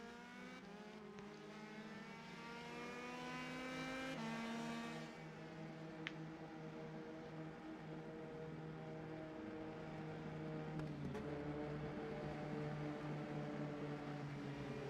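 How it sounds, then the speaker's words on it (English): Race cars circling the Mid-Ohio track, a steady layered engine drone at moderate distance with harmonic whine shifting as cars pass, continuous throughout without talk. "Some cars are still out on track."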